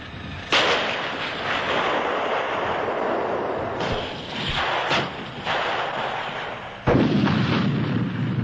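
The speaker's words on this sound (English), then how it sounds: "Main armament is the same 120mm L11A5 rifle gun as on the Chieftain" A Challenger 1 main battle tank fires its 120mm L11A5 rifled main gun, giving several loud, heavy booms that ring out and roll away across open ground, with no voices.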